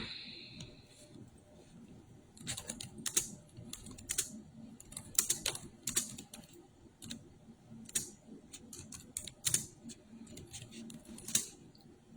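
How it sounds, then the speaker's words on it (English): Rapid, light keyboard typing as a chat message is entered, a steady run of close clicks in uneven bursts across the whole stretch, quiet and with no talking. "Here, let me write that in the chat."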